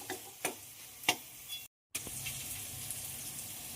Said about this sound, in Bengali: ভেজে রাখা মাথাগুলো, দিয়ে খুব ভালো করে নেড়ে দেবো